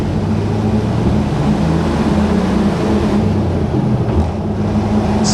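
A 1988 Ford F-150 4x4 short-wheelbase pickup accelerates on a drive, its engine a steady, fairly loud drone with a low hum and gradual pitch shifts, road and cabin noise mixed in, no talking.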